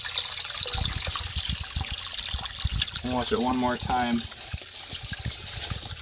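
A steady stream of water pours and trickles into a basement sump pit, a continuous splashing wash with a voice speaking briefly over it.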